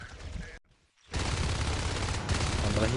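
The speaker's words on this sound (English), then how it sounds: "Nice shooting by Pactu" Gunfire during a competitive Natural Selection video game match, dense rapid shooting after a brief quiet gap, sustained and loud to the end, with a faint voice early on.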